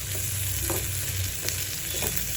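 Pirandai (adamant creeper) shoots being sautéed in a pan for chutney: a steady, even sizzle broken by a few soft stirring scrapes, close by, with no voices.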